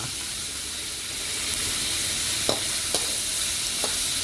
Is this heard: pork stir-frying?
yes